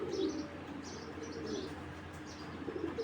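Red checker racing pigeons coo softly in a loft, low repeated murmuring coos with faint chirps over steady background noise, no talking.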